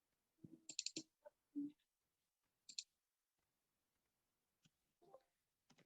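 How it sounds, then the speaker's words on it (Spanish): Quiet, sparse clicks in a near-silent room, including a quick pair of clicks like a mouse double-click. "Doble clic."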